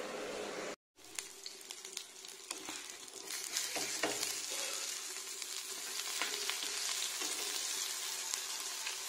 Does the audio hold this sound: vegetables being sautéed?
yes